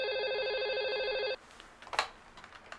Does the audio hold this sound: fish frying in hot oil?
no